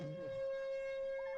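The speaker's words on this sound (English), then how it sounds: "He must be right next to that siren." A steady, wailing tornado warning siren holds at one pitch throughout, fairly faint and distant, with no voices.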